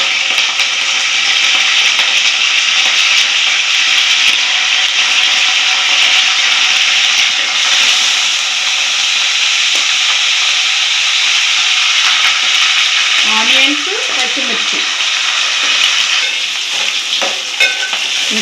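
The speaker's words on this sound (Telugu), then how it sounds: "ఇంకొంచెం ఫ్రై చేసుకున్నాను." Curry leaves fry in hot oil with cumin seeds, a steady close sizzle running throughout, with a few louder crackles and stirring scrapes near the end.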